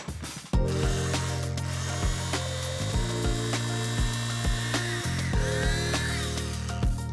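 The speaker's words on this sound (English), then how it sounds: "lid goes on, and I'm going to finely chop this until it looks like a salsa" A food chopper whirs in repeated short pulses while finely chopping tandoori marinade ingredients, each burst a loud close mechanical buzz with brief pauses between.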